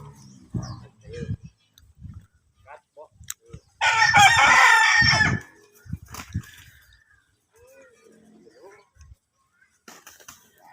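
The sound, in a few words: rooster crowing, fighting cock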